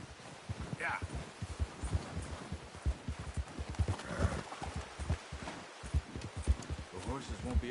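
Horses in Red Dead Redemption 2 clip-clop at a walk on soft ground, steady nearby hoofbeats with a brief whinny, under a man's speech.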